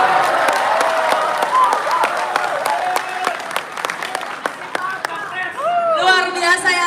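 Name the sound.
applause for Anies Baswedan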